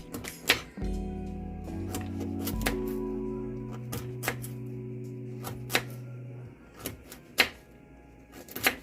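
A knife cuts a carrot on a cutting board for Italian wedding soup, making sparse, sharp, close taps at an uneven pace over a faint steady background hum.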